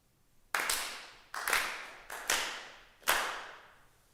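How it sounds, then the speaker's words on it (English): A congregation at a Konko spring memorial service claps in unison exactly four times, each clap a sharp, reverberant burst with a brief decay in a quiet hall and no voices. "Let us clap our hands 4 times together."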